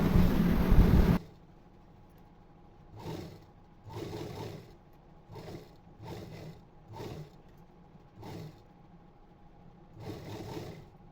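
A sewing machine stitches blouse lining to the main cloth in short bursts of whirring, about eight runs separated by quiet pauses, close and clear, after a loud noisy opening second.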